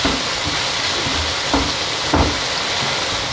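Liquid poured into a pot over a frozen block of chicken soup, a steady loud hiss and sizzle with deeper sloshing bursts rising out of it a few times.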